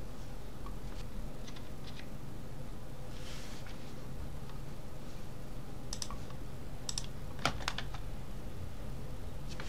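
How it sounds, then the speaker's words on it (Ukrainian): Fingers type a formula on a computer keyboard in sparse, uneven bursts of close, light key clicks, with one sharper tap standing out over a quiet room hiss. "Отже, далі ми наберемо цю формулу."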